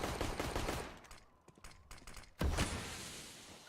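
Gunfire in a professional Counter-Strike match on the Nuke map: rapid clusters of sharp shots, then a brief lull and a louder, heavier burst of firing near the end, with no voices.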